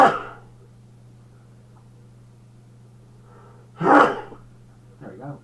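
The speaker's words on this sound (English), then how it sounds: "We're going to give a sneeze." A man sneezes twice, a sharp burst at the start and a louder one near the end, each followed by breathy sounds, over a faint steady background hum.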